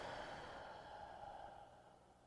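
A group of people exhales together after a deep breath, one long soft breathy release that fades over a couple of seconds, with no talking.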